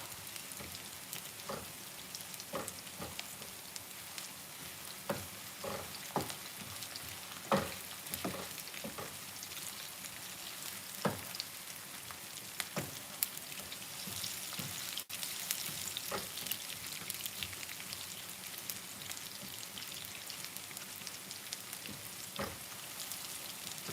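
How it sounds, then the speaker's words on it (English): Chopped onion fries in a pan on a stovetop, a constant soft sizzle broken by frequent sharp pops and crackles, with no voices over it. "So we're just going to fry our onion until golden."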